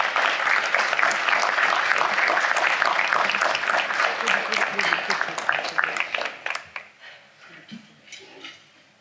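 Loud, sustained applause from the audience at a fair housing summit honoring an award winner, a dense crowd of clapping hands that thins into scattered individual claps and dies away.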